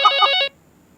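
A telephone ringtone during a Thai radio phone-in, a loud electronic ringing burst with a few pulsing beats for about half a second, then abrupt quiet.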